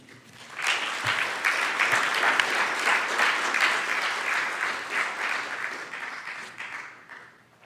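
An audience at a Tacoma university event breaks into sustained applause welcoming a speaker, many hands clapping steadily for about seven seconds before fading out.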